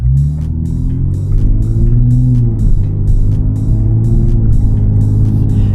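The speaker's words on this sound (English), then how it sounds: "You can't beat the sound of the IS350 compared to other naturally aspirated V6 cars." Steady, close rumble of a 2023 Lexus IS350 F Sport's naturally aspirated V6 engine, its pitch wavering gently as the revs rise and settle, with no talking.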